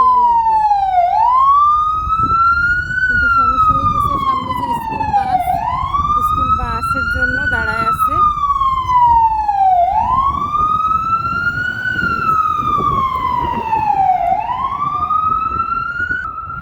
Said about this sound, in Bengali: এই যে আমাদের এই পাশে আসতেছে এটা হলো একটা অ্যাম্বুলেন্স